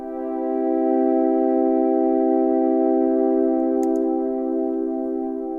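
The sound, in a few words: cloudy synth pad with warm tone, before plugins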